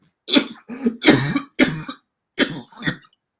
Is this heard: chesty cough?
yes